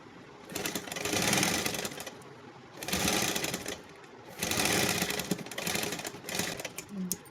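Close, steady whirring of a sewing machine stitching a zip into a pair of pants, running in three or four sustained bursts with brief gaps between them, with no talk over it.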